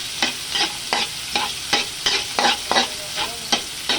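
Garlic and onion sautéing and being stirred in a pan for chicken feet, with a steady sizzle broken by regular scraping strokes of a spatula roughly every half second, close and moderately loud.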